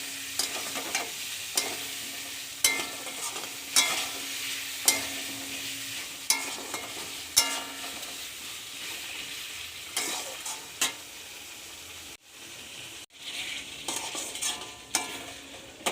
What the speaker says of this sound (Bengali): এর দিয়ে আমি মশলাটা একটু কষিয়ে নিচ্ছি